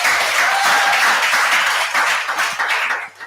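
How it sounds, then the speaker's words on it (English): A conference hall audience at an HIV prevention conference claps in a dense, sustained round of applause, loud and close, tapering slightly near the end with no voices over it. "So please give yourself a sound round of applause,"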